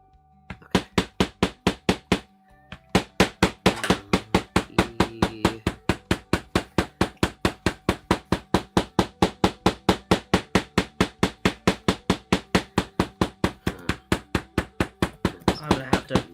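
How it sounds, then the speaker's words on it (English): A rawhide hammer thumps a leather shoe, sharp steady blows repeated dozens of times at an even quick rhythm, close and loud, with a brief pause near the start before the pounding resumes without break. "That's where the rawhide hammer's gonna come in."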